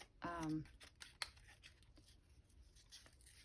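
Scissors cutting paper pieces for an altered file folder journal, heard as a few faint, scattered snips and rustles after a brief hummed voice sound near the start.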